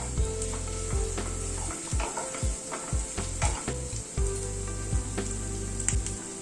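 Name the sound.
garlic paste being stirred and sizzling in a frying pan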